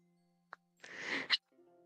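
One faint sneeze, a breathy build-up snapping into a sharp burst, surrounded by near silence and a soft tone.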